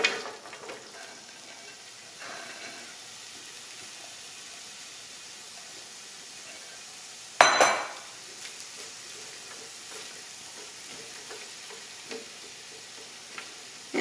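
Onions sizzle and fry in a pan with beef drippings, a steady close crackle throughout, with one sharp clatter midway from stirring.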